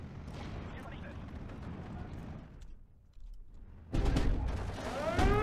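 Artillery barrage in the strategy game Steel Division 2 pounding infantry positions, rumbling blasts and crackling debris that fade briefly before a loud, heavy burst of explosions near the end.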